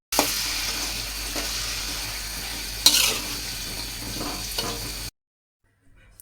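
Chopped flat beans are stirred into sizzling masala in oil, a steady close hiss with a few spoon scrapes, cutting off abruptly into near silence near the end.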